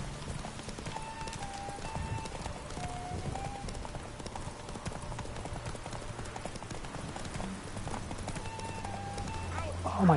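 Roach, a horse in the video game The Witcher 3, gallops with a quiet, steady rhythmic clip-clop of hooves under game ambience, with a player talking over it.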